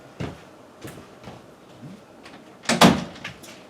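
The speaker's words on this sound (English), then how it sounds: "Let me just close the door a little bit because my dog just walked in." A door is pushed shut indoors, giving a few soft knocks and then a louder thud near the end, close to the listener with no talking.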